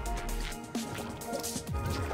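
Water in a LittleBigPlanet 3 video game level gives off soft splashing and dripping sounds over steady game music, fairly quiet and without voices.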